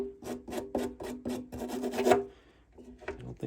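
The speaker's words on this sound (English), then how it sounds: "I'll just wire brush some of this away and see what we're working with here." Wire brush scrubbing old fuel residue and dirt off the engine of a 1973 Yamaha CT3 motorcycle, a series of close, rapid rasping strokes in quick rhythm, then a pause and a few more scrapes.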